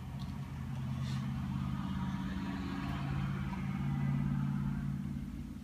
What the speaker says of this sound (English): someone just drove by with an extremely loud car